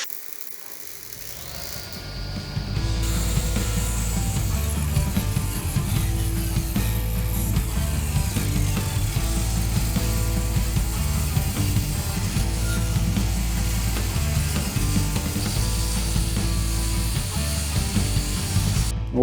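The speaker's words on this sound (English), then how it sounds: "we're going to just rip that right off, and then we're going to come out with a nice octagon looking tube" A table saw rips a length of ash wood into an octagonal tube for a shovel handle. The blade drones loud and steady through the cut, with a brief lighter whine before it fully loads.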